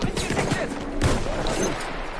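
Rapid Battlefield 1 multiplayer gunfire from a Conquest match crackles steadily throughout, dense overlapping shots with a heavier burst near the middle, with voices faintly mixed in.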